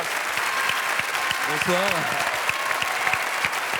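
Television studio audience applauding a guest, steady clapping with a few sharp close claps, while someone briefly speaks a greeting partway through.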